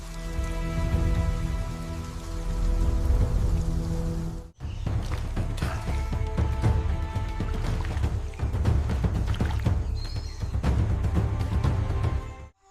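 Steady rain falls in the Amazon lowland rainforest, a dense, continuous hiss of drops on leaves with a brief break partway through, loud and close throughout with no talk.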